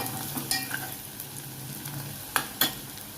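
Mushrooms and onions frying in a pan for a mushroom curry give off a steady close sizzle, with a couple of sharp spatula scrapes near the end and no talking.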